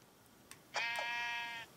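A sheep in the video game Minecraft gives a single nasal bleat of about a second, clear and fairly close, after a couple of faint clicks, over quiet background noise.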